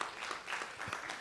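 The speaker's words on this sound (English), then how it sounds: "Let's give a hand of applause for ladies." Brief soft applause from attendees at an annual general meeting, a short burst of scattered clapping heard faintly at a distance.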